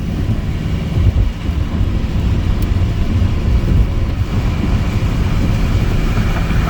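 Loud, steady rushing roar of highway traffic on a wet road in rain, with tires hissing and water spraying continuously, heard from a car doing about 55 mph in the middle lane.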